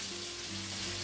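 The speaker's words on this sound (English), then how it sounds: "We stir fry it." Onion, mustard seeds, red chili and curry leaves sizzle in hot oil for a South Indian sambhar tempering, a brief steady hiss of frying with no voices.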